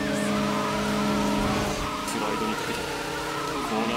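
A Honda Civic EG6 engine revs near redline in the racing game Initial D Extreme Stage, a loud, steady, high-pitched drone with a faint tire squeal and no pauses.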